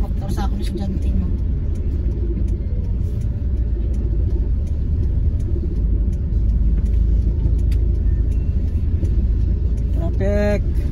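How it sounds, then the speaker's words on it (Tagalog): Road traffic rumbles in a constant low, loud drone of passing cars and buses, with people talking throughout. "Traffic."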